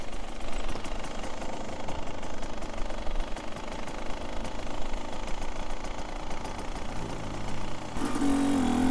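A Beta Xtrainer 250 dirt bike engine lugs at low RPM in second gear, a steady, rough, boggy two-stroke drone close to the microphone that swells slightly near the end.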